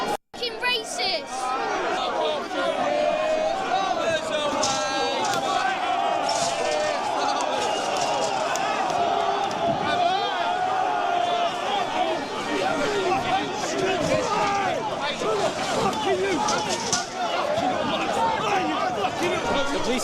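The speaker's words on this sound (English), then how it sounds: "The police have now entered into the crowd" Dense, loud crowd noise during a tense street protest as police push into the crowd, with constant overlapping shouting, chatter and scuffling throughout, voices close by.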